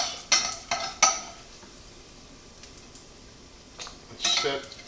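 Rendered bacon lifted from a pan with tongs and set aside, giving several sharp metallic clinks and scrapes of utensils against cookware, then a quiet gap before another cluster of clatter near the end.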